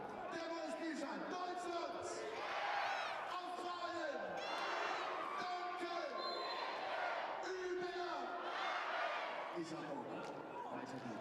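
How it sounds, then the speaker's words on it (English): An arena crowd at an indoor hockey World Cup match between Germany and Australia cheers and roars steadily, the noise swelling and falling in waves while a commentator talks over it. "The crowd are loving it in here."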